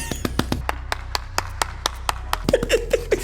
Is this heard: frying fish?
no